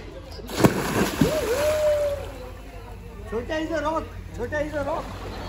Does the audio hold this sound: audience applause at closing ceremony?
no